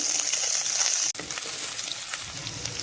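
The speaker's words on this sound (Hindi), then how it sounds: "अब हम इसके अंदर प्याज को भी हल्का हल्का फ्राई कर लेंगे।" Steady, close sizzling of onions frying in hot oil, with a brief clatter partway through and no talking.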